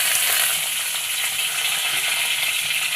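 Green chili, shallots and garlic sauté in a pan, giving a constant dense sizzle and crackle of hot oil, close up and unbroken, with no voices.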